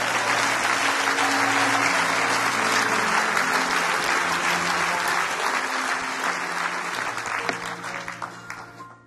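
A church congregation applauds loudly at a sermon, with dense, sustained clapping and some cheering under it, holding steady before slowly thinning toward the end.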